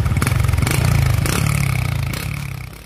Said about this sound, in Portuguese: Pega um ferro, coloca ali no escape da moto, fica um barulho sensacional.